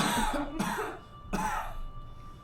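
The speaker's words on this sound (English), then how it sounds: "Everyone's just coughing." Several people cough in a room, two harsh bursts of coughing close by with a softer throat-clearing sound between them.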